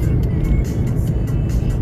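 Steady, loud road and engine rumble from inside a car overtaking at about 110 on the Dammam–Khobar Highway, with a dense low drone and no talking.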